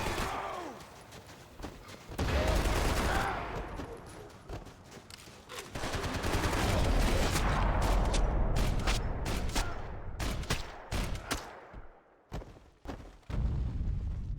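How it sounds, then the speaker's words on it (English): Gunfire from the Max Payne 3 video game in Hoboken, with dense bursts of automatic weapon fire and heavy booming shots rattling almost without pause, loud and close, ending in a ragged run of single cracks. "Gunfire over Hoboken."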